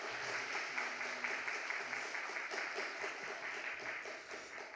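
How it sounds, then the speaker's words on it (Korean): Applause from a church congregation welcoming the senior pastor at a Wednesday worship service, a steady, faint wash of many hands clapping continuously throughout. "담임 목사님을 큰 박수로 맞이하시겠습니다"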